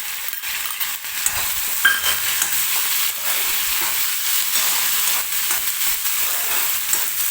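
Finely chopped tomato hits softened onion in a hot pan, a loud, steady sizzle with intermittent stirring scrapes running throughout.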